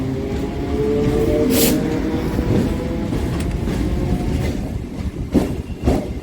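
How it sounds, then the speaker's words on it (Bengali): A Kolkata Circular Railway train departs, rumbling along with low rolling wheel noise and clattering, a brief high squeal early on, and sharper clanks toward the end. "আমাদের ট্রেনটাও ছেড়ে দিল"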